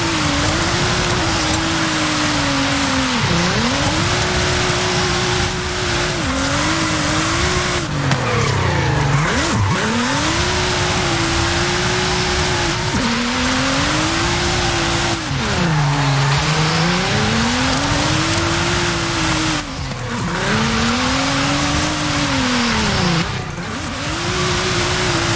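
A 2023 Nissan Z drifts in Forza Horizon 5, its engine droning steadily while long tire squeals rise and fall in repeated arcs through the whole stretch, loud and close with no talking.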